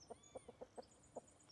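A hen in the Project Zomboid video game gives a run of soft, faint, rhythmic clucks, about seven short calls over quiet background sound, with no talking.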